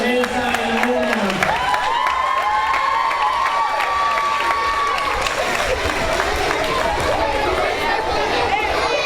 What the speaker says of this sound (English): Big round of applause for Alyssa and Omar.